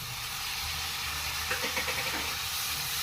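Chopped tomatoes go into a frying pan of chili-spiced frying for pakodi curry, giving a steady, soft sizzling hiss that swells slightly partway through, with no talking over it.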